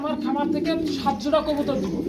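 Pigeons coo with a low, throaty burble while someone talks loudly over them nearby.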